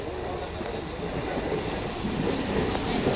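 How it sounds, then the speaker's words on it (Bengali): A train rumbles steadily into a station, a heavy continuous roar that builds slightly toward the end. "এই দেখো ট্রেন চলে আস এসেছে"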